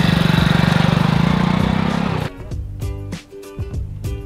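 Small electric motor and propeller of an RC airplane running on the ground before launch in high wind: a loud, close, steady pulsing buzz for about two seconds, then cut off and followed by scattered clunks and rustles.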